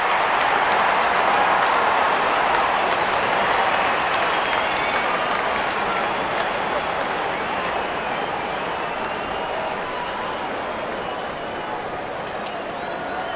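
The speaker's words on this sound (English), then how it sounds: "The crowd is enjoying every bit of this action." Cricket stadium crowd at a Pakistan vs Sri Lanka T20 World Cup match applauding, a dense, steady wash of clapping and cheering that holds loud throughout and eases slightly toward the end.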